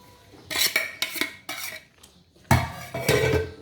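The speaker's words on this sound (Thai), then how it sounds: "นี่มาเซาหอมกับพวกเนื้อให้เข้ากันเนาะ" Metal utensils stir and clatter against a pan or bowl as spring onions and herbs are mixed into a traditional duck larb, in several loud bursts of scraping and clinking separated by short pauses.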